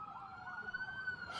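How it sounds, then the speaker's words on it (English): Emergency sirens wail in the background of an AI-generated street scene, a steady rising and falling tone that stays moderately loud and continuous with a brief burst of added noise at the end. "you can see that we also have the sirens in the background"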